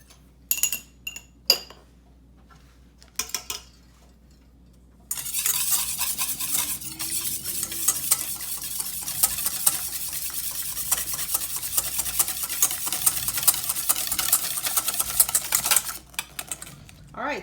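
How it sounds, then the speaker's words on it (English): Pancake batter ingredients being beaten in a bowl: a few sparse taps and clinks at first, then about twelve seconds of fast, continuous whisking against the bowl, close and busy. "you're going to beat all those together."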